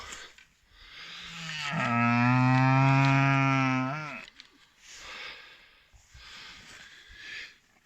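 A belted Galloway cow, outdoors just after calving with her newborn calf, lets out a long, loud, close moo, followed by softer, breathy lowing calls.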